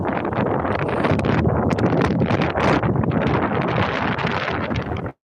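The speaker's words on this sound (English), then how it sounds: "I know y'all hear this wind blowing too." Strong wind blowing outdoors, a loud continuous roaring buffet across the microphone that cuts off abruptly at the end.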